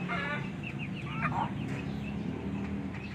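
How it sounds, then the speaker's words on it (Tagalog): Several chickens cluck and call in overlapping bursts at close range, including Texas-breed birds moved from a flooded backyard after heavy overnight rain, with a steady murmur of background noise underneath. "Ito yung mga ibang manok."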